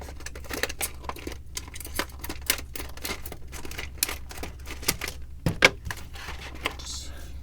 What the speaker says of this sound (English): I'm going to go ahead and cut it open real quick.